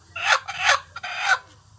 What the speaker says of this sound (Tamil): இன்னொரு கோழி நம்ம வீட்டில் புது கோழி ஒன்று வந்துருக்கு